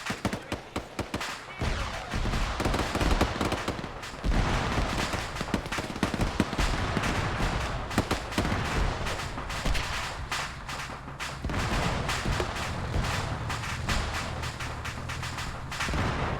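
Heavy video game gunfire from a Ukrainian ground infantry match, with dense rapid bursts and booming shots that keep going throughout, loud and near, with scattered heavier thuds.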